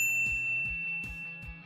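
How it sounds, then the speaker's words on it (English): A bright notification bell dings four times in quick, even succession, clear and close, with a sustained ringing tone fading between strikes and no speech. "be sure to subscribe to our channel and ring the bell to get notified about our latest videos"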